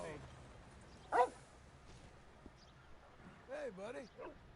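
A dog in Red Dead Redemption 2 gives a couple of short yips and whimpering barks, fairly close, amid a quiet game ambience.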